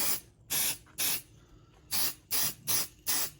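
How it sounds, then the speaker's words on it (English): A can of 505 adhesive spray for machine embroidery hisses in six short bursts, each about a quarter-second long, with brief quiet gaps between them. "So I use 505 spray."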